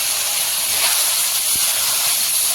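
Ground ginger, cumin, black pepper and green chili paste sizzles in a hot pan for rohu fish curry, giving a loud, steady, even hiss that continues without a break and with no voices.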